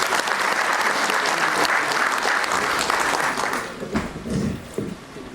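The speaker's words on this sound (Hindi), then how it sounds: "एक बार उनके लिए तालियां हो जाए" Loud, dense applause fills a hall at an investor meet after a speaker is honored, sustained for several seconds before thinning out into scattered claps and a brief murmur near the end.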